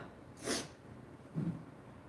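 Two short sudden bursts of breath, the first a sharp sneeze and the second a softer snort-like one, with quiet room noise between them.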